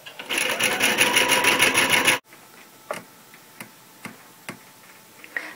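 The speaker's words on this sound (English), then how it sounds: "hold your pieces very nice and taut as you're sewing to" A sewing machine runs fast and close for about two seconds, stitching velvet and silk pieces for a pieced scarf. It stops abruptly, and soft scattered clicks follow.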